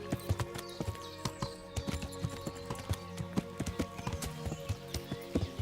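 Horse hooves clatter quickly and irregularly as the animal hops down a steep hill in Kingdom Come Deliverance, sharp close clip-clops over a steady background bed.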